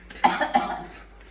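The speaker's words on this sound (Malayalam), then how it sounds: "ആർക്കാണ് ചുമക്കുന്നത്" Two distinct coughs from a person nearby, a short pause between them, followed by a faint rasp as the sound trails off in a quiet home kitchen.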